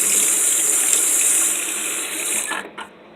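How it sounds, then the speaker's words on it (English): Kitchen tap water runs hard over a spoon being rinsed, a loud steady hiss that cuts off near the end, followed by a couple of small clinks. "rinse off my spoon"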